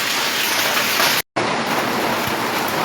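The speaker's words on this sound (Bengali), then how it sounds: "এই যে দেখেন প্রচুর শিলাবৃষ্টি হচ্ছে আমাদের পাকুন্দে।" Heavy hailstorm with strong wind in Pakunde, a dense, loud, continuous roar of hail and rain beating down close by, with a brief dropout partway through.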